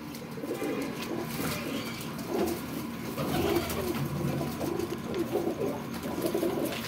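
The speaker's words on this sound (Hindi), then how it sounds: "ये देखें। चौथा कबूतर आ गया।" Several pigeons coo in low repeated bursts close by, a flock of pet flying pigeons being moved for transport to Pindi Faizabad, with steady background hum and no talk.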